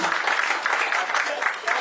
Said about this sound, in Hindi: ताली तो और बजेगी